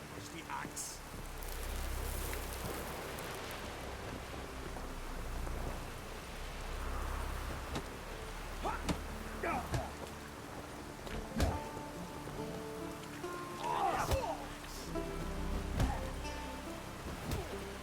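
Rain pours in The Witcher 3 game world, a steady wash of hiss under intermittent speech, with scattered sharper taps and low rumbling swells through the downpour.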